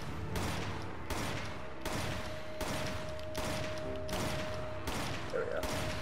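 Repeated bursts of gunfire from Resident Evil 5, loud dense volleys in a steady rhythm of roughly every three-quarters of a second, with a faint tone ringing underneath.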